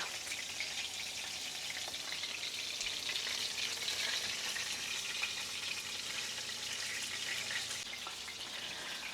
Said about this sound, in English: And I'm going to go ahead and cook this down until it gets nice and thick.